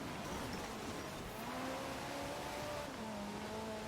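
Racing car engine in a video game race, a steady synthetic engine drone with rising and shifting gear tones, continuous and moderately loud with no talking.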